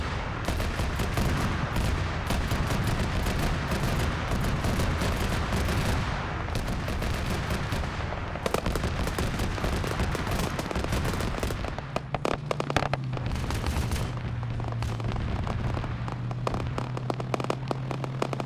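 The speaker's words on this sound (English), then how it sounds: "they're firing at the infantry," Dense, continuous volleys of gunfire in a military video game pour down on infantry, rapid cracks and bursts layered into a constant rattle, with a droning engine tone joining partway through.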